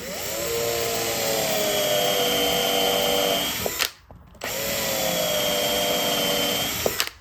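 Power drill boring holes through wooden boat planks, a steady high-pitched whine held for nearly four seconds, a brief pause, then a second equally long run, close and loud.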